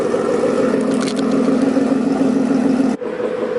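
A 2014 Ford Mustang GT fitted with BBK longtube headers idles steadily, a deep, loud and even exhaust rumble close by, briefly dipping near the end.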